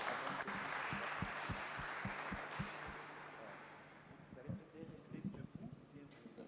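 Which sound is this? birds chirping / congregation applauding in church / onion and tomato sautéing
congregation applauding in church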